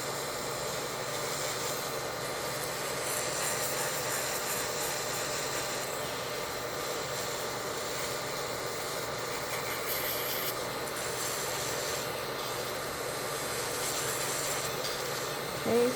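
Electric nail drill running at 6,000 RPM, scuffing the surface of a natural nail during an acrylic fill, a steady high whine with a faint grinding rub that holds unbroken at close range throughout.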